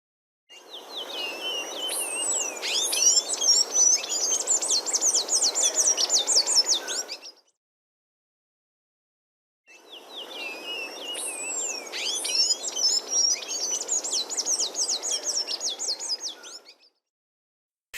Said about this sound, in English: Palm tanager.